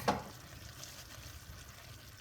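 A pot of homemade jam being stirred, opening with a single spoon scrape against the pot, then a faint soft sizzle and bubbling that carries on quietly to the end.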